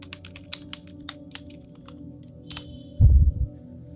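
Someone types a short search query on a computer keyboard: a handful of quiet, evenly spaced key clicks over a faint hum, ending with one heavier thump like the enter key.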